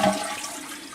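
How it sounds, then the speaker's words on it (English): A toilet flushing after its tank flange was replaced, a short rush of draining water starting loud and trailing off, close by with no talk. "We're going to give it a flush. Let all the water go down."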